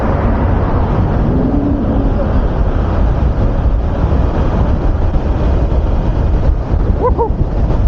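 Strong wind roaring over the microphone while riding a dual motor mini bike, a loud continuous low rumble with steady buffeting and a brief faint tone near the end.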